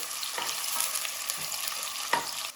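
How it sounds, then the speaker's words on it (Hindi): Finely chopped onion frying in a pan with oil for chicken biryani, a steady close sizzle with occasional stirring scrapes over a few seconds, no talking. "अब इसको हम थोड़ा सा फ्राई करेंगे"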